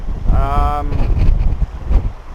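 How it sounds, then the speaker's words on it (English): Gusty wind in Spain buffets the microphone with a low rumble throughout, while a voice briefly sounds partway through. "although it's windy, as you probably can hear"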